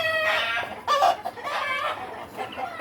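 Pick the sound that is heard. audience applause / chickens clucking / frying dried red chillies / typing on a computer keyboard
chickens clucking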